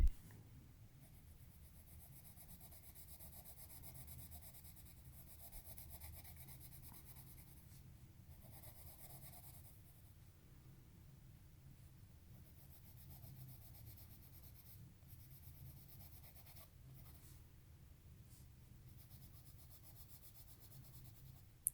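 Colored pencils rub back and forth over paper, smoothing streaky marker coloring; a soft, steady scratchy scraping continues close up throughout with short pauses, no voices.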